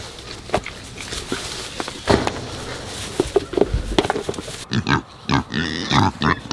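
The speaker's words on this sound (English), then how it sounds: "Hey pig, come on, come on, come on, come on." A pig shuffles and grunts at close range on a North Carolina farm, with irregular footsteps and short snuffling grunts scattered throughout, growing busier and louder toward the end.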